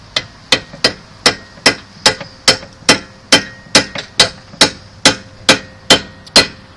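Hammer blows drive a part into place on the rear brake of a 2005 VW Touareg during a rotor change, about fifteen sharp, evenly spaced metallic strikes, loud and close, with no talking.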